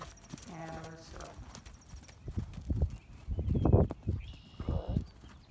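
A horse cantering in an arena, its hooves clip-clopping in a steady three-beat rhythm close by, with an instructor talking over the hoofbeats.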